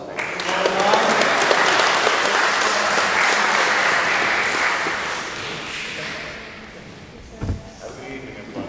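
Applause from attendees at a civic and taxpayers association meeting, a broad sustained clapping that fades out after several seconds, followed by a few knocks and room noises as talking resumes.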